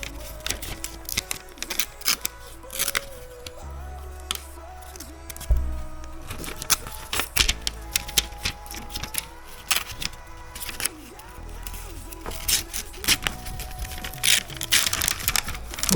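Paper wrapping being torn off a Nothing Phone 2a smartphone box, close up: sharp crackling rips and crinkles in irregular bursts, with short pauses between pulls.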